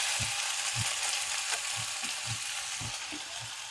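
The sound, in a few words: onions and curry leaves frying in oil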